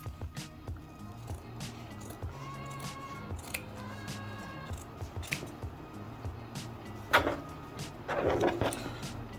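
Scissors trimming fabric edges while sewing a wallet, a run of quiet close snips and rustles of cloth, with a couple of louder handling bumps near the end.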